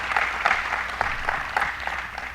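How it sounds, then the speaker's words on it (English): An audience at a governor's bill signing on Long Island utility restructuring claps in a steady, moderate round of applause, even and continuous for a couple of seconds. "Let's give them another round of applause."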